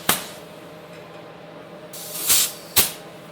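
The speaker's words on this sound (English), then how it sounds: "I'm going to inflate them to pressure" Short bursts of pressurized air hiss as a compressor inflates a bicycle tire through its valve, with a steady low background and three sharp, near spray-like blasts.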